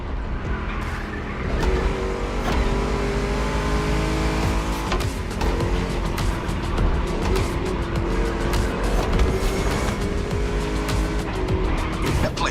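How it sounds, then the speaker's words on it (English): Ford Mustang V8 engine roaring steadily at high revs during a race lap in The Crew Motorfest, loud and close with continuous harmonic drone, shifting pitch and occasional tire squeal, with no talking. "Just listen to that V8 like a chonky, down-tuned guitar riff."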